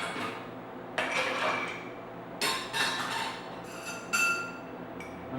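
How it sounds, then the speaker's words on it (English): Ice clinks and rattles in a mixing glass as a cocktail is stirred, in several bright bursts of clattering with short pauses between, close and fairly loud. "So to that I'm going to add ice and stir."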